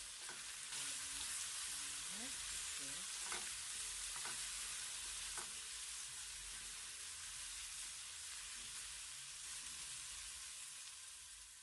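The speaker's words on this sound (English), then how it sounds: "Then I add my salt and allow it to simmer for like about 1 or 2 minutes" Githeri with spices and salt simmering in a pot gives a steady, close hissing sizzle, with a few faint clinks early on.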